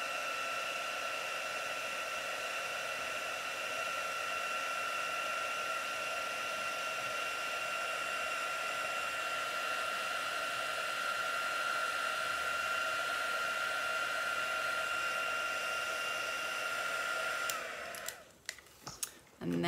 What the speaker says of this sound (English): Grab my heat tool and heat this up, and the powder will melt.